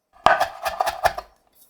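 A knife chops ginger on a board in a quick run of about six crisp, close strikes, then falls silent.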